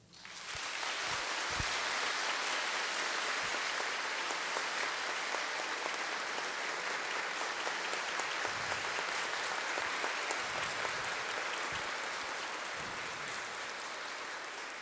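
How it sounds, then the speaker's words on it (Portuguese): A church congregation at a Chrism Mass gives the priests sustained, dense applause filling a large hall, steady and loud from start to finish without a break. "Dando uma salva de palmas."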